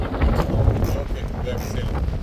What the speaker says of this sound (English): Wind is quite strong.